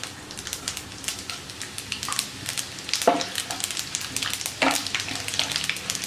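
Cumin seeds sizzling and crackling in hot ghee in a kadai, a steady close frying hiss with scattered pops and a couple of stirring scrapes.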